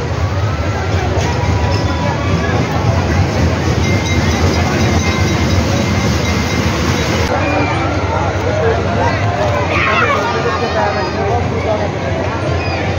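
Loud, continuous rumble and clatter of a train passing close by at a village fair, with people talking over the noise throughout.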